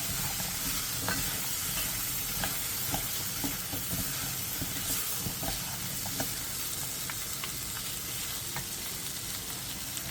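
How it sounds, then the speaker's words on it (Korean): Meat, potato and onion stir-frying in a hot pan, a dense continuous sizzle with scattered crackles and spatula stirs throughout, close and fairly loud. "고기의 겉면이 어느 정도 익으면 감자와 양파를 넣고 2분 정도 더 볶아주세요."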